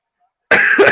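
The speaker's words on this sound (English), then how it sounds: "sorry, I keep coughing into this" A single harsh cough right into a microphone, loud and close, breaking a near-silent moment during a college basketball watch-along.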